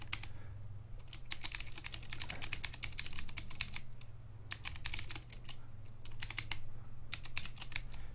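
Steady, fairly quiet clacking of keys on a Vortex Core 40% mechanical keyboard, typed in quick bursts with short pauses between them.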